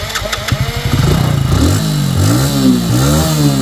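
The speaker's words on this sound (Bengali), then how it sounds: "তো ওই বাইকটা এখন আমি স্টার্ট করে সাউন্ড কন্ডিশন দেখাবো" A second-hand Hero HF Deluxe motorcycle starts with a quick cranking stutter, then its engine runs loud and close, revving up and down in uneven swells with no talk over it.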